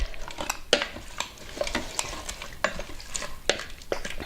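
Spoon stirring lentil and Swiss chard soup in an Instant Pot, with soft scraping strokes and light clinks against the pot repeating irregularly, quiet and close with no talk.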